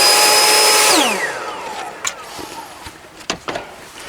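A Ryobi 40V lithium battery leaf blower on a 12 amp hour battery, running on turbo at a loud steady high whine, then spinning down in a falling pitch, followed by quieter scattered knocks and handling noises.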